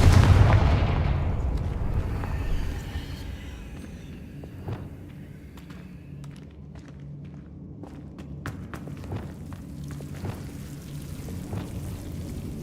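Confringo fire spell blasts in the video game Hogwarts Legacy: a heavy booming explosion at the start that rumbles away, then scattered sharp cracks and impacts over a low background.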